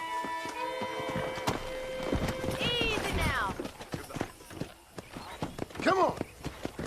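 Wild horses in the Red Dead Redemption video game clip-clop along at a steady trot, with a loud whinny near the end, while people talk over the hooves.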